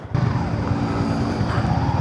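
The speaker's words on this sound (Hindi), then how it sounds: "ये हो गया इसका एग्जॉस्ट साउंड।" A Yamaha XSR155 motorcycle's exhaust plays as a steady, fairly close idle drone with a low throbbing pulse that starts abruptly and holds for about two seconds, with no talking.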